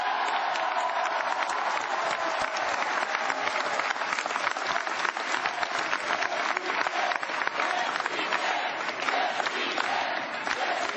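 Dense, steady applause from a large crowd at a Scott Brown victory speech rally, continuous loud clapping with scattered cheers throughout.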